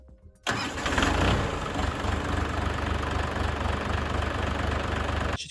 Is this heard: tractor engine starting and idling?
yes